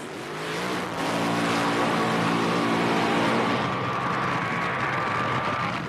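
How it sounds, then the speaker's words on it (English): Drag racing cars at the 1981 NHRA Springnationals do their burnouts, a loud sustained engine roar with a steady high whine carrying on near and continuous throughout, no talk over it. "the next pair of cars do their burnouts"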